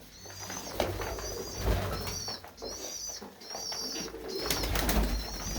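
Pigeons coo in a dim loft, repeated soft throaty calls in a steady rhythm close by, alone without talk over a low background rumble.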